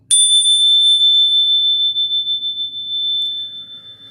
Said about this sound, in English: I'm going to play for you a quick Zen bell